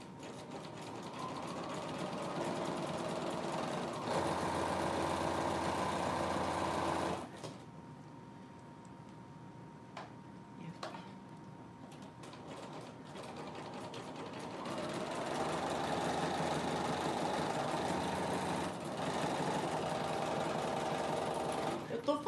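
A sewing machine runs a zigzag seam on fabric with a fast, steady mechanical whir, stopping for a pause midway and then starting again, with someone talking over parts of it.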